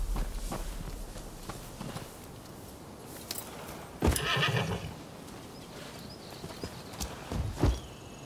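A horse gallops in the video game Rise of the Ronin: hoofbeats and snorts or whinnies at moderate distance, with a louder burst of movement midway and a few sharp clops near the end.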